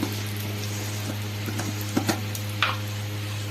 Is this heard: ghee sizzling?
yes